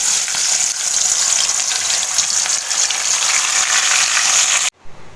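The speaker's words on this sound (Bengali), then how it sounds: "কড়াইতে তেল গরম হয়ে গেছে। তো এবার আমি এর মধ্যে মাছগুলোকে দিয়ে দেব।" Fish frying in hot oil in a wok, giving a loud, steady broadband sizzle that runs nearly unbroken for several seconds before cutting off abruptly near the end.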